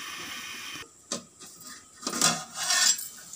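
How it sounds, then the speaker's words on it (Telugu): A metal lid set down onto a cooking pan during preparation of a fish curry, giving a couple of short clattering metallic knocks, close and fairly quiet, with no talk. "మూత పెడుతున్నాను."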